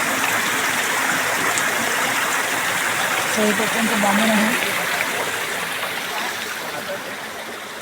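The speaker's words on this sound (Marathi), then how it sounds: "आणि ही नदी" A river in the Konkan flowing with a steady broadband rush of water close by, while a person talks briefly over it.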